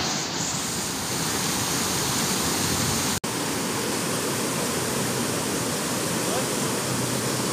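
River water flowing steadily at Cimory Riverside in Puncak, Bogor, a loud continuous rushing wash that fills the whole stretch with only a brief dropout partway through, with no talking over it.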